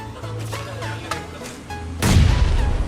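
A bomb blast in a mobile video game bursts in as a loud, broad boom two seconds in, following a stretch of quieter game effects and tones, and its rumbling tail carries through to the end.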